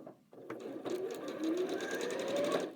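A sewing machine stitches quilt fabric in a quick, even mechanical run that starts after a brief pause and holds steady and close until the end.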